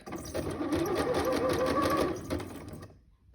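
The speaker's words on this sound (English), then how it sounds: "So you're zigzagging right on the edge to make sure that you're catching the fabric." A sewing machine zigzag-stitches elastic into a skirt waistband, running in one continuous loud close burr for nearly three seconds before stopping and dropping to quiet, with no talk.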